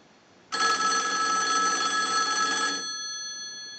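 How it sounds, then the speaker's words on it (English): A single-slot rotary payphone, under repair and conversion, rings its bell when a line analyzer sends a ring cycle: a loud, sudden metallic ring lasting about two seconds, then trailing off as it decays, close and alone. "we want to use the analyzer and we want to send the unit a ring cycle"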